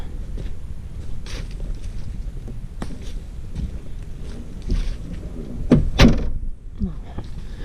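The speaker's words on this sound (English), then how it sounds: "I'm going to shut one of these doors just for effect." A van door slams shut once, a sharp thud near the end, amid wind and outdoor rumble with faint rattles before it.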